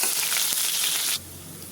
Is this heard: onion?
yes